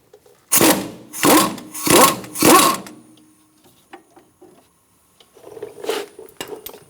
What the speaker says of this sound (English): I'm going to hold it still on this side and unbolt this bottom part, the fork for the strut.